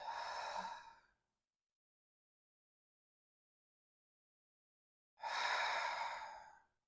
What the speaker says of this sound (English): Find your breath.